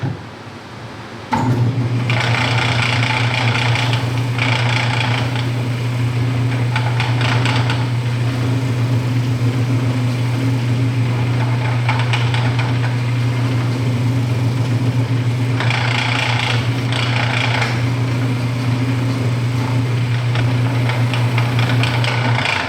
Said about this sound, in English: Turn it on lathe, and put heavy pressure